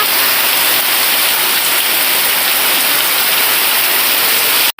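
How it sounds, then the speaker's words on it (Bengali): Loud heavy rain pours continuously as a dense, close wash of noise, cutting off abruptly at the end. "এত বৃষ্টি এত বৃষ্টি"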